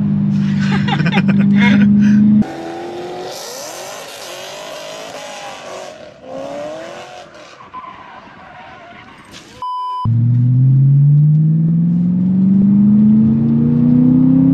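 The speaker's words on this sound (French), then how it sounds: "Le V8 c'est un bonheur. Et ce moteur... ça me donne de la voix" A BMW M3 V8 revs hard on the move, rising and falling through gears with loud, close engine tones, broken by abrupt cuts between segments and a long climbing pull at the end.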